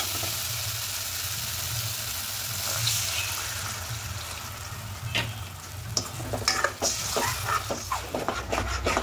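Water is poured into a pan of well-fried, dry spice masala while cooking duck eggs, bringing a loud hiss and sizzle followed by stirring clatter and bubbling.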